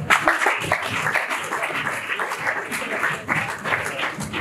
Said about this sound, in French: Encore une fois, applaudissez-moi